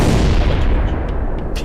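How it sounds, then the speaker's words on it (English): A large explosion roars as a sustained, loud, broadband blast, booming and crackling for the whole stretch with no voices. "There is a very large explosion."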